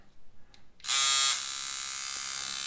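A Pope Irons T3X tattoo machine switches on with a sudden loud, high buzz, then settles into a steady, slightly softer whir, close up and with no talking.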